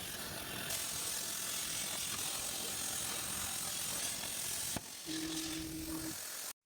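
A CNC plasma cutter slicing stag head puzzle pieces from metal sheet gives off a steady, hissing mechanical drone. It stops abruptly near the end, and a brief tone sounds afterward.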